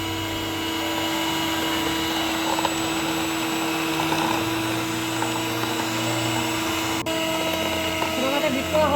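Electric beater whirring steadily as it mixes sugar and oil into vanilla sponge cake batter, a continuous close motor drone with a slight wobble, running throughout without a break.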